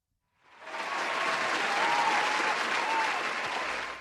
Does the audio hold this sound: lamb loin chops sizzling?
no